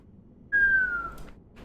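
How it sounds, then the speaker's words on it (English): A person whistles into a microphone: one clear, slightly falling tone lasting under a second, then abruptly cut off as the mic drops it, leaving a faint hiss. "That whistle really didn't come through on the mic, did it?"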